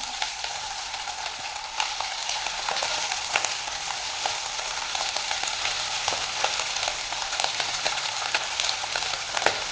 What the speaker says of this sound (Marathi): आता तेलही तापलं आहे आता याच्यामध्ये भरलेलं कांगडा सोडून घ्यायचं